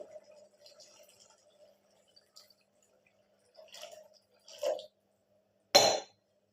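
Water poured into a spiced moth bean curry, with small trickles and drips at first, then a few louder splashes of liquid landing near the end, alone in a quiet kitchen.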